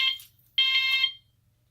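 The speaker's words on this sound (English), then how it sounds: "the sounder produced 2 blasts for the smoke detector zone" Two short, shrill electronic alarm blasts sound from an Edwards FireShield Plus fire alarm sounder signalling the smoke detector zone, the second longer and louder, with a quiet hum beneath.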